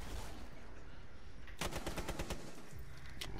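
A rapid burst of automatic gunfire in Rainbow Six cracks out in a tight string of shots midway, then a lone shot follows, over a constant background hiss.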